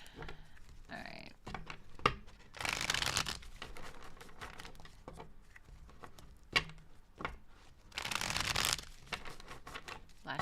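Riffle shuffling of a card deck, two bright flurries of rapid flapping amid scattered clicks and card handling, with people talking nearby.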